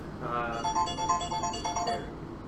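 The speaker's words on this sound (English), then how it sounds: "This is why I keep my phone on silent." Mobile phone ringtone going off during a podcast recording, a bright melodic electronic tune of repeating notes playing loudly for about two seconds before stopping.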